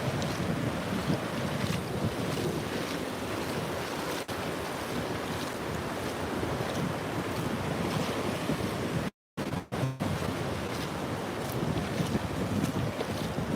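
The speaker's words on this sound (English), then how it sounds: "And the sound of these waves" Choppy ocean waves wash and slosh around a boat while wind buffets the microphone in a continuous roar, with a brief dropout near the end.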